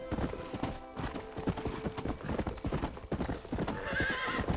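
A horse in the Red Dead Redemption video game gallops in a steady rapid clip-clop of hooves, then lets out a neigh near the end, loud and close throughout.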